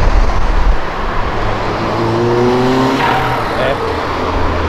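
A Fiat Uno Turbo fitted with a Supra engine drives by with a loud engine note and rising tones, close and prominent under people talking.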